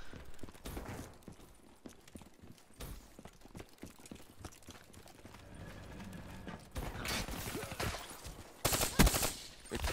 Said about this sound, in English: Where it's a burst weapon, but if you just hold down, it bursts automatically.